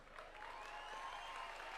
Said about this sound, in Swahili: simama tukupigie makofi.